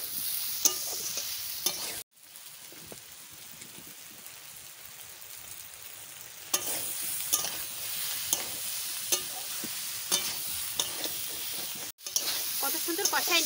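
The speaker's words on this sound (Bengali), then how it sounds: "এবারটা খানিক সময় মাংসের মতন করে আমি একটু কষাই নেব।" Jackfruit curry being stirred and sautéed with homestyle spices in a pan, a steady close sizzle with repeated scraping stir strokes, pausing briefly twice.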